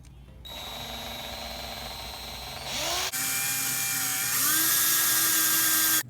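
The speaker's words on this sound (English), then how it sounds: "drill this hole now" Power drill boring a hole into a metal vehicle push bar, a steady high whine that jumps in pitch partway through and keeps running strong to the end, with no talking.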